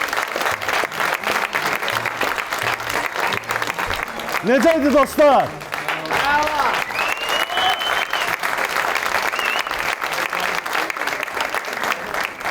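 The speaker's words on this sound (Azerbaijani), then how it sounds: "Gəlin bu heyəti alqışlayaq əziz dostlar." An audience applauds the cast on stage at a New Year comedy show: steady, dense clapping that runs the whole time, with a host talking over it.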